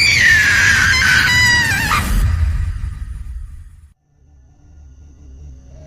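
A woman's loud, piercing scream with wavering high pitch lasts about two seconds, then cuts off into a low rumbling hum and near silence.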